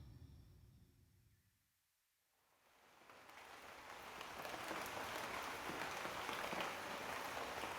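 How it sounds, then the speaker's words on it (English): Rain drizzles onto a thatched roof, rising from near silence into a soft, steady hiss of drops that grows fuller and stays even. "Rain drizzles onto the thatched roof of your home, the rhythmic sound being your music for the night"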